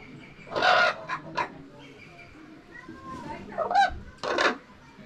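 A crow or raven caws a few times with harsh, scattered calls at a small zoo in Leskovets village, Pernik region. People talk nearby in between the calls.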